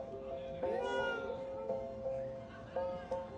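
A young child imitates a cat, giving a few drawn-out, nasal meows in quick succession, close and clear against a quiet room.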